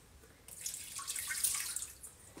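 A cup of water is poured into a pan holding butter, a brief, bright splash that swells and fades over about two seconds in a quiet kitchen.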